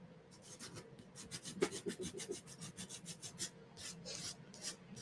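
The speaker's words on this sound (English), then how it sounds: "This side needs to be sanded." Repeated strokes of sandpaper rasping across a memory tile, a steady rhythmic scratching close by with no talking.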